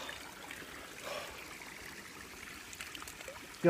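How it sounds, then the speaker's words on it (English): A small waterfall stream runs down from the Pen y Fan summit over marshy mountain ground, and its faint, steady trickle and splash carry on without a break at a moderate distance. A brief louder knock comes at the very end. "the marshy conditions at the bottom of this summit are explained somewhat by the little waterfall coming down from the summit"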